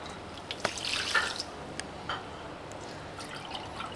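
Water is poured into a pot for mallow jam, a quiet close trickle with small splashes and drips, building briefly before tapering off into faint dripping.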